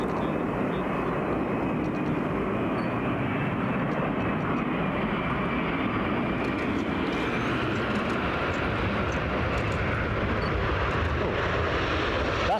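Etihad Boeing 787 Dreamliner jet at Brussels Airport, a steady broadband engine roar that holds loud and close throughout with a faint high whine, no voices.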